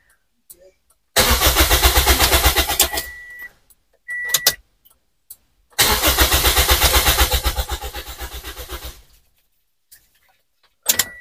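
A Toyota Vios being repaired for a no-start fault has its starter run to test the fuel pump. Two long, loud, close cranking bursts pulse rhythmically, separated by short clicks and a gap, each fading away at the end.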